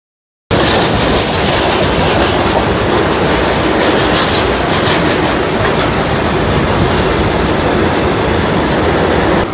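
A local train on the Howrah to Digha line runs steadily, a loud continuous rumble with wheel clatter and rail squeal throughout and no talk.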